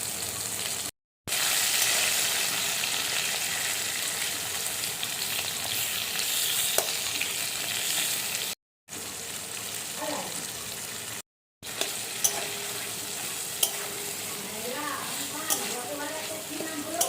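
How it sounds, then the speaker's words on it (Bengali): Potatoes frying with whole garam masala, tomato and ginger, a steady close sizzle broken by a few brief gaps, with occasional stirring scrapes and some faint speech. "আলুটা ভাজতে ভাজতে মাঝখানে একটু জায়গা করে আমি গোটা গরম মশলা দিয়ে দিলাম"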